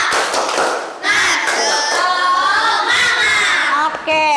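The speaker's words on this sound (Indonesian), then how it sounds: "sekali lagi tepuk semangat." Classroom students performing the tepuk semangat clapping chant, loud group claps and shouted chanting voices in rhythm, with a brief pause early on before the chant continues energetically.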